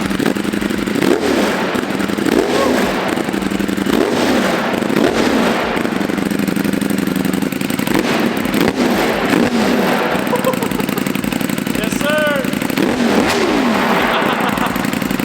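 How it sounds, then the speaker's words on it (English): A Ducati Panigale V4S engine runs loudly nearby, a constant heavy rumble with repeated rising revs and some mechanical clatter throughout. "I don't even know how well you guys can hear me, but this bike just sounds insane."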